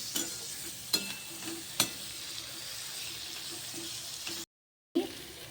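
Tomato and spices mixed into eggplant bharit in a pan, a soft, quiet sizzle with a few distinct utensil knocks, then a brief gap of silence before stirring resumes; nobody speaks.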